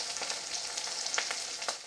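Bata fish sizzle steadily in hot oil over low heat, a constant fine crackle with occasional sharper pops close by.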